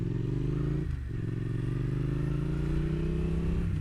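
A motorcycle shifting up from fourth gear without the clutch, a loud steady engine drone close by with a brief dip and jolt as the gear engages, then rising revs.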